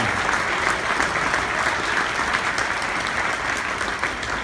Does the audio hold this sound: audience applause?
yes